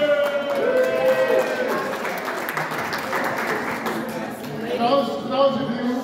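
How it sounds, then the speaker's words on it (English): Wedding guests at a toast break into a sustained round of applause for the best man, dense clapping filling the room for several seconds while voices talk over it near the start and end. "big round of applause for the best man"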